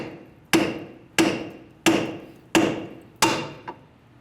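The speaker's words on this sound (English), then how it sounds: "So we're just going to use a hammer" A hammer knocks a Honda Element outer tie rod end out of its strut bracket: five sharp, evenly spaced metallic strikes about two-thirds of a second apart, each ringing briefly, followed by a faint tap.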